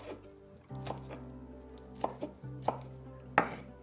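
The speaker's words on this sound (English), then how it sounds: "That's just a quick and dirty way to cut all the spinach." A knife chops through a pile of baby spinach on a cutting board, with a handful of irregular crisp thuds standing out over low background noise and no speech.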